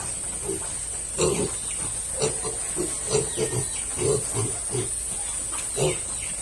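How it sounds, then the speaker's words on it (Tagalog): Landrace pigs in a pen grunt and oink in short repeated bursts at moderate distance, over a steady high-pitched hiss in the background. "So, sampo ito na baboy."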